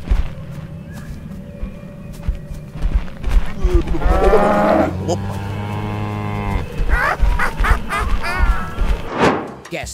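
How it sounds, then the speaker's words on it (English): The Friendly Cow character from Zoonomaly lets out a long, low, drawn-out moo in the middle of a guessing game, surrounded by thumps and other busy game sounds at moderate loudness. "This is Friendly Cow."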